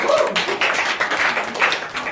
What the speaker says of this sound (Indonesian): Oke, tepuk tangan dulu untuk kalian